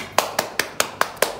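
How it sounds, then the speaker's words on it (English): Hands clap six times in an even, quick rhythm during a children's reading lesson, each clap sharp and close with short gaps between. "Wow. Clap for Teddy."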